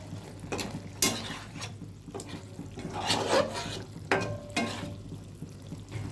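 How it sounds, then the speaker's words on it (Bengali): Mustard hilsa simmering with fried brinjal in a pan gives a low bubbling hiss broken by several sharp spoon scrapes and clinks, quiet and close, with no voices. "বেগুনগুলো দিয়ে একটু ফোটাবো।"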